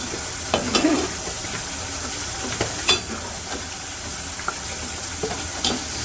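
Beef sautéed in a pan for a village-style dish, with a constant hissing sizzle and occasional scrapes of the spoon, close and fairly loud, with no talk.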